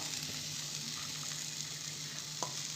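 Chopped onion hits a hot pan for a Moroccan tagine and sizzles in a steady, even hiss throughout, with one small clink near the end and no talk.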